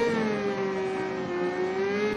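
Cartoon car engine speeding up during a chase, a steady loud revving whine with sustained harmonic tone that holds and slightly rises over about two seconds, no voices.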